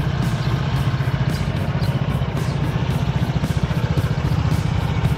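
A Honda ADV 160 motorcycle idles close by with a steady, low engine rumble and an even throbbing pulse that holds for the whole stretch, with no talk over it.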